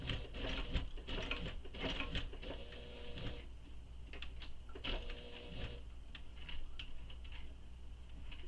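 A sewing machine stitching a tote bag runs in quick rapid rattling bursts, with a busy mechanical chatter that slows and resumes, fairly quiet and close, with a steady background hum and no talking.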